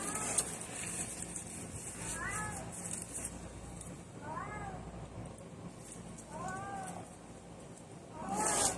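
A cat meows repeatedly, four plaintive cries spaced a couple of seconds apart, over a steady hum of background noise.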